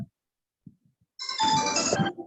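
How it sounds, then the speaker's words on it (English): Phone ringtone rings loudly for about a second during an online English class, a bright repeating electronic melody after brief silence and faint murmurs, then cuts off. "Somebody's phone is ringing."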